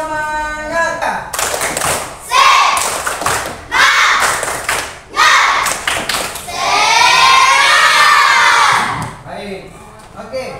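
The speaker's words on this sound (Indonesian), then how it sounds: "kita tepuk semangat dulu ya" A school classroom of children performs a rhythmic spirit clap chant, loud bursts of unison clapping and thumps alternating with shouted group chanting, ending in a long cheering yell, all close and energetic.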